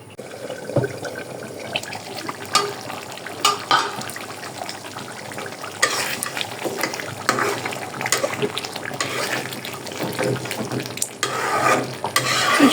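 Goat meat curry cooks in a pot over the heat, giving a steady bubbling, sizzling boil with scattered louder pops and stirring clatter, close and continuous throughout without speech.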